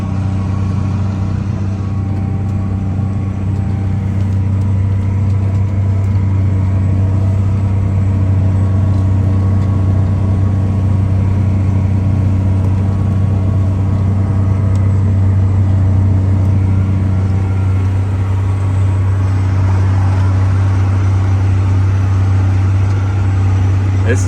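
A tractor on auto steer pulls a ripper through a field during tillage. Its engine gives a loud, steady, low drone from inside the cab, unchanging for the whole stretch, with someone talking over it.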